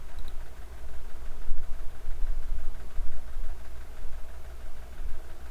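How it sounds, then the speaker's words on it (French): A motorcycle engine idles and runs steadily as three riders set off, a continuous low rumble with slight surges, fairly close and with no talking. "ils vont repartir à 3 sur la moto"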